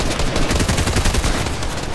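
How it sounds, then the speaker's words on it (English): Loud, dense rapid gunfire in an online shooter game, a continuous close burst of automatic shots filling the whole moment. "Why are you shooting at me, bro?"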